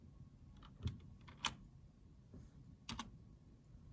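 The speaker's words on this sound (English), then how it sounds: "now I'm going to type a 2 because I want the second quartile." Soft, scattered computer keyboard keystrokes, a few sharper clicks standing out, close and quiet while someone enters numbers into a statistics calculator.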